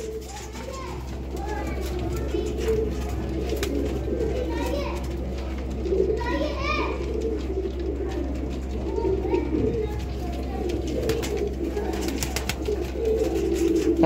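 Breeder pigeons from a Sialkoti rooftop pair coo softly and repeatedly in a loft, with a steady low hum beneath, children's voices faint in the background, and someone talking over them throughout.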